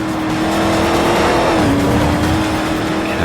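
Steady engine drone of a Bertone Mantide race car in Forza Motorsport 4, holding a sustained, fairly loud tone with a slight pitch dip midway as it drives through a section of track.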